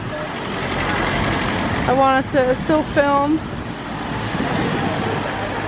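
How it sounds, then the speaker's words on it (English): Cars rumble past in steady street traffic in Lisbon, Portugal, a constant roadway hum that stays under a brief stretch of talking in the middle. "A lot of car traffic here,"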